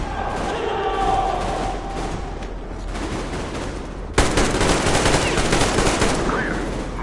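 Sustained automatic gunfire from a squad laying down covering fire in Metro Exodus, bursts rattling over a busy battle mix, then a sudden louder, denser stretch of rapid shots toward the end.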